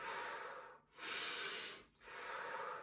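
Slow, deep breathing during a diaphragmatic breathing exercise, three long airy breaths in a row separated by brief pauses, close to the microphone and fairly soft with no talking.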